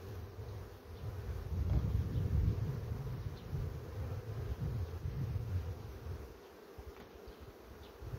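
Honeybees buzzing around an apiary hive during colony work, a dense, continuous low drone that swells and fades slightly, close and steady with no talking.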